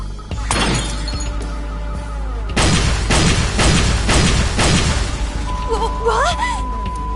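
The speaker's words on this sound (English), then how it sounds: "The explosions appear to have stopped." Several loud, shattering blasts, like explosions in a video game, hit in quick succession, following a single earlier boom, with background game sounds and voices nearby.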